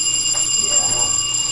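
A building fire alarm rings on after being pulled, a steady, high, piercing electronic tone heard close and continuous.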